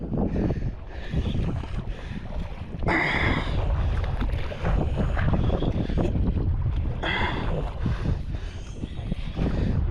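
Strong wind at sea at night roars and buffets steadily with rushing water and a small fishing boat's motion underneath, loud and continuous with gusty surges.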